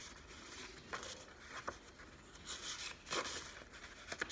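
Quiet papery riffling and flicking of cards being shuffled, in short irregular bursts with brief pauses between.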